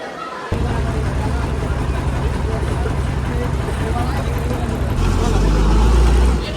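An MSRTC ST bus idles and rumbles at Chandgad bus stand, a loud continuous low engine drone with crowd babble and road noise, swelling heavier near the end as someone talks over it.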